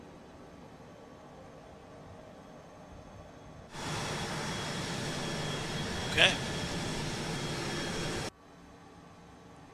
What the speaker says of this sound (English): we're going to start up engine number 2.